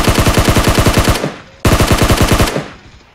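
Automatic gunfire in a video game shooter: two loud, close bursts of rapid machine-gun shots, each lasting over a second, separated by a short pause, with no talk over them.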